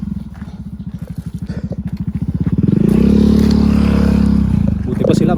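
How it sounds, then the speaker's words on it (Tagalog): A motorcycle on a dirt trail in Danao City chugs with a steady rhythmic engine pulse, then swells louder and rougher as it draws close and passes, with a voice speaking over it. "may makasulubong natin tayong motor"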